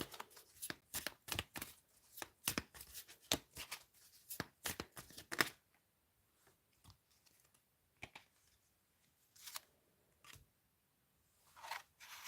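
Tarot cards shuffled by hand for a reading, a close run of quick riffling snaps and flicks that thins out into a few scattered soft taps and slides, quiet overall.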